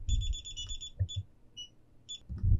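A DSC Neo alarm keypad gives a series of bright electronic beeps while the security system is being armed, several quick tones with short pauses between them, and low rumbling handling noise underneath.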